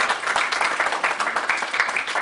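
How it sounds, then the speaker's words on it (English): An audience at a board of education meeting in Lakewood claps in a brief, dense burst of scattered hand claps that holds steady, with little speech over it. "the public should be perhaps giving a round of applause to the board of the companies"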